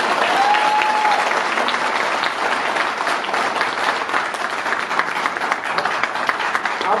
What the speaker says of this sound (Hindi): जिन लोगों ने, दो तीन लोगों ने हाथ किया उनके लिए बेशुमार तालियों हो जाए।